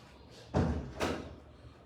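A door being closed indoors: two soft, muffled thuds about half a second apart, fairly faint and alone against low room noise.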